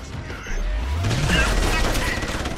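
A grenade goes off in the Deus Ex: Human Revolution video game, a sudden loud blast half a second in followed by rumbling debris and rattling gunfire-like crackle.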